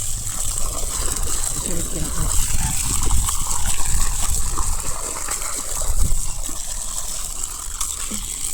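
Water pours and splashes continuously onto the ground around a mango tree on a farm, a rushing, gushing flow with low thuds and background hiss.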